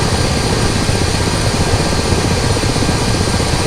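A Ka-50 coaxial-rotor helicopter taxis toward a runway in a flight simulation game, its engines and rotors producing a loud, steady broadband roar and low rumble with no pauses.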